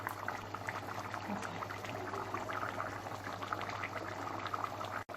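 Mutton haleem simmering in a pot after hours of cooking, a steady close bubbling and popping with dense liquid gurgles throughout, no voices.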